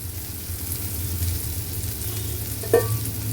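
Onions with green and dried red chilies and curry chili powder being sautéed in a pan for a lentil-free sambar, giving a steady low sizzle with a sharp spoon-against-pan clack near the end.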